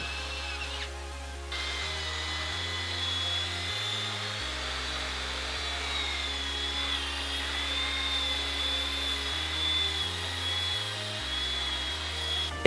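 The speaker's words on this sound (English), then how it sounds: "We're going to drill this hole out a little bit bigger" A power drill with a bit enlarges a hole for a DIY brake master cylinder brace, whining steadily up close with the motor pitch shifting in stages as the bit cuts.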